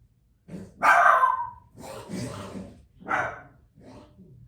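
A dog barks a few times close by, short sharp bursts with gaps between them, while someone demonstrates blending eye color for a makeup tutorial.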